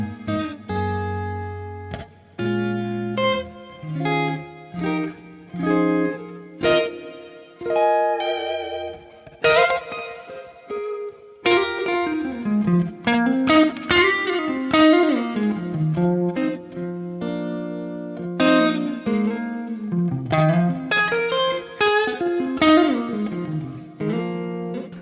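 Electric guitar playing Dumble-style clean and lead tones through a Line 6 Helix modeler, with a Grammatico GSG100 clean voice. Chords ring out first, then sustained singing lead lines with bends, smooth and reverberant, alone with no talking.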